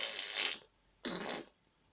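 Two short, loud farts sound close up in quick succession, each a raspy blast lasting about half a second, with quiet between them.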